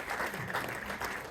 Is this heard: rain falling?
no